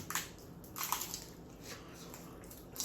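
Crunchy food is bitten and chewed close up in a series of sharp, irregular crunches during a family eating challenge, fairly quiet overall.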